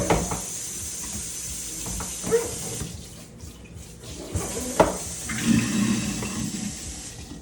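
Grease from cooked ground beef poured through a strainer into a bowl, a steady splashing liquid pour with brief clinks, fairly close and without talk.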